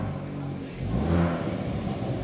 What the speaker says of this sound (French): donc on est en mode N là, donc échappement sport plus. On a vraiment une très belle sonorité d'origine